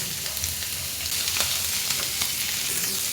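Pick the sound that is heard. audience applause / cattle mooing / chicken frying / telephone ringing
chicken frying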